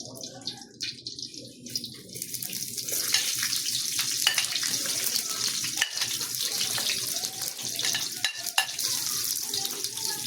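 Onions frying in a pan, a steady close hiss and sizzle running throughout with occasional clinks, fairly loud and continuous.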